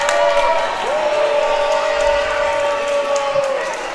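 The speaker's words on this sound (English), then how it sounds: "The crowd loves it." Crowd noise at a school basketball championship game in a gym, a loud sustained roar of cheering and clapping with a steady rising whistle-like tone, commentators faintly talking over it.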